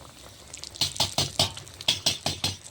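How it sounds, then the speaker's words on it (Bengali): Egg puris drop into hot oil on a clay stove, where water spits and crackles in a run of sharp bursts, close and fairly quiet with no talking. "তেলটা গরম হয়ে গেছে, পুরিগুলো ছেড়ে দেবো"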